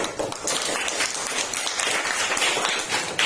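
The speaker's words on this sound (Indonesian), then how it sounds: "Ayo duduk, beri tepuk tangan temannya." Students in a classroom applaud a classmate who has just presented on hypertension, a brief burst of dense clapping that fills the room at moderate loudness with little talk over it.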